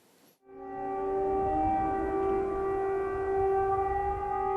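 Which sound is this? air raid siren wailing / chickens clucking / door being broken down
air raid siren wailing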